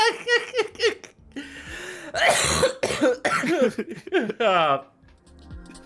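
A person laughs in short bursts, then gives a harsh cough near the middle, followed by more laughter and breathy, voiced sounds. Everything is close and fairly loud, with no clear words.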